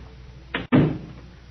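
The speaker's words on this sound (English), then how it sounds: "Now, close the door." A door closes in an old-time radio drama sound effect, a 1943 suspense broadcast: a short latch click followed by a solid, fairly loud thud with a brief decay, with no voices over it.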